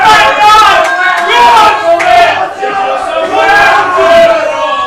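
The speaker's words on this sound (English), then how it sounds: "The raucous rock and roll crowd kicked into action. It's the away fans that are cheering." Away fans in a rowdy crowd at a blackball pool match cheer and chant loudly, many voices blending into a continuous, rising and falling roar.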